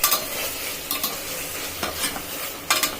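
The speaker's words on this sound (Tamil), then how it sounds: "இப்போ அதுவும் சேர்ந்து நல்லா கிளறி கொடுத்துக்கலாம்" Stingray fish biryani being stirred in a pot, with repeated scraping strokes over a steady sizzle, close and fairly loud, with no one talking.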